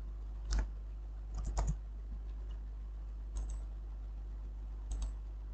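Keys on a computer keyboard are pressed in a few short clusters with pauses between them, a quiet and close tapping over a low steady hum.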